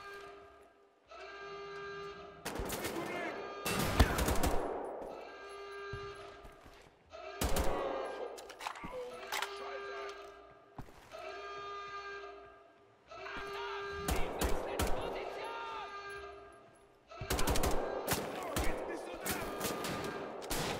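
Gunfire in the shooter Wolfenstein: The Old Blood, loud repeated bursts of shots in several clusters with gaps between them, with background music and game sounds running underneath.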